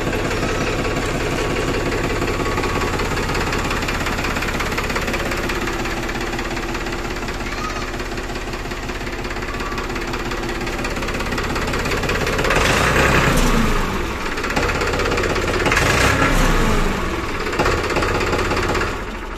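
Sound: Farmtrac 45 Classic tractor engine idling

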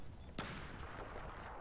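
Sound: gunfire in video game Battlefield 4

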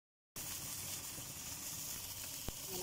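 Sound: tamban fish sizzling, pan-grilled in a hot pan without oil

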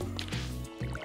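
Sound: watering can pouring water in Stardew Valley video game

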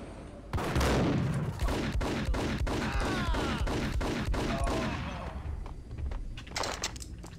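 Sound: shotgun gunfire in the video game Max Payne

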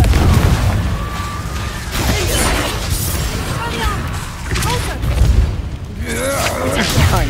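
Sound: Confringo and Reducto spell blasts in Hogwarts Legacy video game

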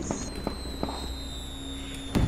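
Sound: fireworks in Roblox video game The Vampire Legacies 2

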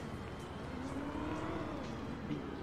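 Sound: car engine in video game GTA

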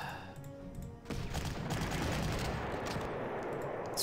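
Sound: bombing attack from the video game Panzer Corps

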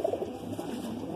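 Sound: high-flying pigeons cooing

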